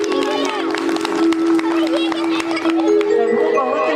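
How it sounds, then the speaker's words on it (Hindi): An audience at a Ramlila performance in Soniya Vihar, Delhi claps in a dense, continuous patter while a sustained musical tone plays and a voice speaks over it. "एक बार जोरदार तालियां बजा दीजिए।"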